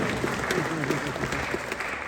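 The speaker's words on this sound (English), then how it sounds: "Please give him a round of applause." A dense, steady wash of audience applause for a pianist at a senior high school orchestra performance, continuous and fairly loud, with voices murmuring faintly underneath.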